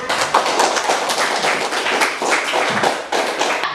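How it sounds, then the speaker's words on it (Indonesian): A classroom of students applauds a classmate with dense, even clapping from many hands that keeps going at a steady level for the whole stretch, close and fairly loud. "Berikan aplaus kepada temannya sekali lagi."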